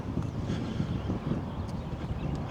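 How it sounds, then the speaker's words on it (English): Wind gusts buffeting the microphone outdoors at a manufactured home site where ground has been dug up, a steady low rumble throughout with no talking. "It's a little windy out here, y'all,"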